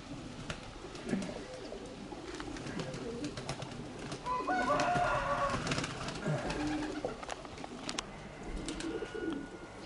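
Pigeons coo steadily in a loft of tumbler pigeons kept in several breeding lines, soft low calls repeating throughout amid rustling, with a brief louder burst of bird activity near the middle.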